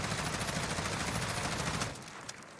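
Sustained automatic fire from an M16 Grenadier in the video game Modern Warfare, a loud rapid burst of shots that cuts off abruptly, leaving a faint tail.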